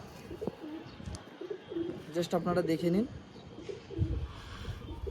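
Pigeons coo in a bird seller's loft, a Madras pigeon among them, with low rolling calls repeating close by. Someone talks over and between the coos.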